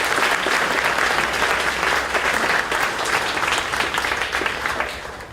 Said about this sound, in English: if you want to applaud, this is your time to do so